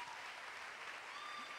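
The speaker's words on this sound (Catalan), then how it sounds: "Gràcies, un aplaudiment per ells." An audience claps steadily in a dense, even patter, fairly faint and distant, with no voices standing out, at an evening vigil at the Sanctuary of Lluc.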